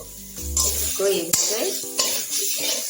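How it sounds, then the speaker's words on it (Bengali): Grated coconut sizzles in a karai on a gas stove, with a sharp clank and scraping stirs over the crackle and a voice talking in the background. "আমি গ্যাসে কড়া বসিয়েছি এটার মধ্যে এগুলো আমি দিয়ে দিলাম নারকেল পুরাটা এটা একটু ভেজে নিব"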